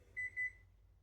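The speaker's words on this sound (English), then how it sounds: "there's the timer." A kitchen timer goes off while tea is being made, giving two short, clean electronic beeps in quick succession, fairly soft against a quiet room.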